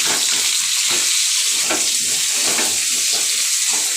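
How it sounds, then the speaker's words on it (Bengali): Potatoes and onions fry in a pan with a loud, dense, continuous sizzle and crackle, close up, with a few soft stirring scrapes and no one speaking. "এখন আগে আলু পেঁয়াজটা ভেজে নিই তারপরে।"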